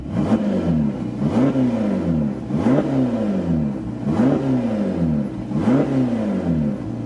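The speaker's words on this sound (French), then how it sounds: "maintenant je vais vous mettre 2-3 revs, pas très fortes, voilà, on va pas passer 4000 tours" Ferrari Portofino twin-turbo V8 held stationary and blipped several times at moderate revs, each throttle stab rising and falling in a steady rhythm of about five pulses, close and loud with no talking.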